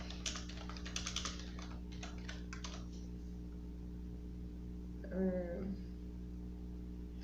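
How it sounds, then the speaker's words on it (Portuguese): Brisk keystrokes on a computer keyboard as a question is typed, over a steady electrical hum; the typing fades out and a brief voice follows. "Deixa eu digitar aqui."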